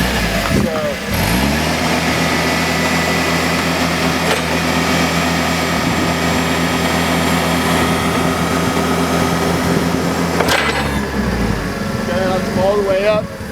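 A forklift's engine drones steadily while its control levers run the hydraulics out to full extension, the tone shifting and dropping as the load starts and ends, with a voice talking over it.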